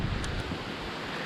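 Steady wind buffeting a camera microphone on a riverbank while fishing for smallmouth bass, a continuous loud rumbling roar filling the whole stretch with no talk.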